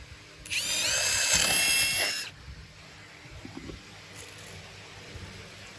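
A power drill bores holes for cabinet pulls through a DIY jig, whining loudly at a high pitch for under two seconds, then stopping and giving way to soft handling clatter and a brief faint whir.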